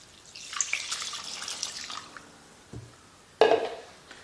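Water poured from a container onto sourdough starter and flour in a bowl, a short splashing trickle up front, then a quiet lull before a brief louder splash near the end.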